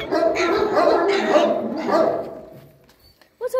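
A dog gives whining, bark-like vocal sounds over about two and a half seconds, fading out, then one short sharp bark near the end, close and fairly loud.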